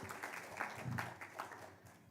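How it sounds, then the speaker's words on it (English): Audience at a Ring the Bell for Gender Equality event giving a round of applause, a soft, faint spread of claps lasting about two seconds, with no talk over it. "another round of applause for her as well"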